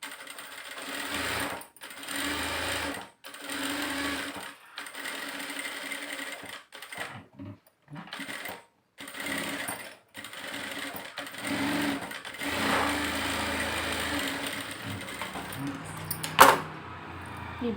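Sewing machine running close by while stitching a blouse puff sleeve, a steady whir in repeated bursts stopped by short gaps, with a sharp click near the end.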